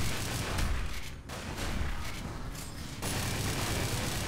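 Gunfire in the tactical shooter game Tactical Intervention forms a dense, loud wall of noise with heavy roaring bursts. Two brief dips break it before it surges back.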